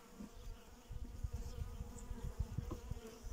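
Honeybees buzzing inside an open hive that is short on bees, during spring inspection at an apiary, a soft continuous low hum with scattered louder buzzes from bees flying close by.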